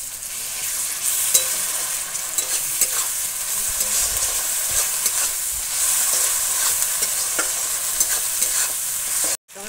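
Ginger garlic paste stir-fried in a pan for chicken biryani: a loud, close sizzle with repeated scraping stirs and crackling spatters throughout, cutting off abruptly at the end.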